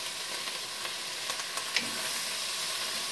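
Garlic sizzling in a hot Dutch oven beneath a roast: a steady, even frying hiss with a few faint clicks and stirring taps, no talking.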